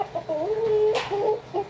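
Chickens on a home farm cluck close by in a short run of bright, pitched clucks and calls, with quiet background between them.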